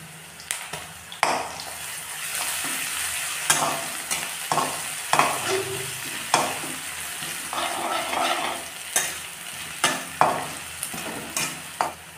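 Garlic ginger paste sizzles steadily in a hot pan for a pork intestine curry, with regular scraping stirs and light metallic taps recurring about every second over the continuous fry.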